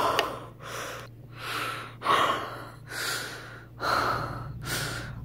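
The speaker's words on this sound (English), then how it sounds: "Stop breathing on my neck, it feels weird." Loud, close breathing pulses in a slow, regular rhythm, about six heavy breaths drawn and released right against the listener, with no talking.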